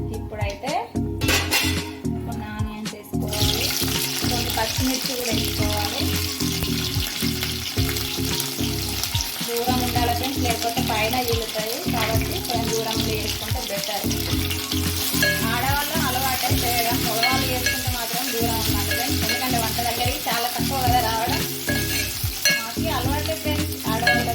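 Whole spices sizzle and fry in hot oil for a Telangana-style toddy chicken curry, a steady crackling hiss with occasional stirring and pan clinks, with a voice talking intermittently over it.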